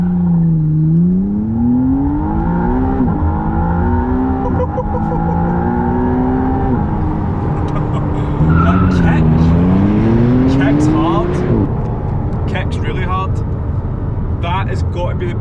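A McLaren hybrid supercar launches hard, its loud engine note climbing in steady pitch sweeps through several gear changes, close and continuous.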